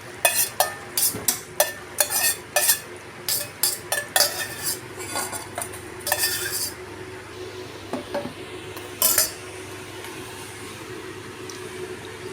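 Pan work while cooking snapper stir-fried with Chinese celery and spring onion: a rapid series of metallic clanks and scrapes against the pan, then quieter rustling and a final clatter, close and loud.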